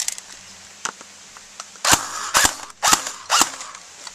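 A GF 47 toy gun fired semi-automatic outdoors: several separate sharp snapping shots spaced about half a second apart, close and fairly loud, with faint quieter clicks before them.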